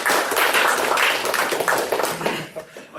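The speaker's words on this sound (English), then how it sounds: "Let's give them a clap." A classroom audience claps for two students, a loud burst of brisk hand claps close by that thins out and tapers off toward the end.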